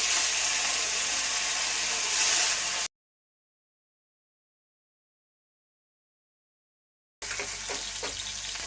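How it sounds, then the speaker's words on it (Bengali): Small charapona fish pieces sizzle steadily in hot oil in a heated kadai, a dense, fairly loud crackle that cuts out into silence and then resumes. "এবার আমি মাছগুলো ছেড়ে দিচ্ছি একটা একটা করে।"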